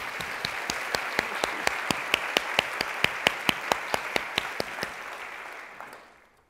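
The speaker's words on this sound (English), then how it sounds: "So let me just ask everyone to join me in a round of applause for Melanie." A symposium audience gives a round of applause in a large hall, heard as a steady wash of claps with sharp, regularly spaced louder claps standing out, fading away over the final second.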